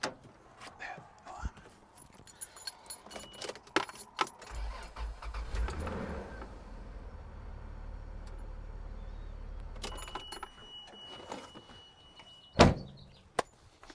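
Toyota Land Cruiser engine cranking and catching, a low rumble building then idling steadily for several seconds, framed by key jangling, door clunks and handling noises before and after.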